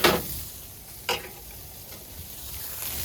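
Butter sizzling and frying on a hot Blackstone griddle, a steady close hiss throughout with a sharper crackle near the start and another brief spike about a second in.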